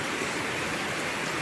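Floodwater rushes through a school yard after a day of heavy rain, a steady broadband roar of flowing water with no voices.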